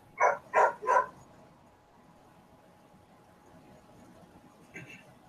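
A dog barks three times in quick succession, muffled as if behind a wall, then a fainter yip follows after a quiet pause.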